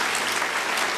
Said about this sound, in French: Je vous demande d'applaudir Claude Bolling.